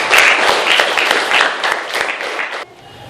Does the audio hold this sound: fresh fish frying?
no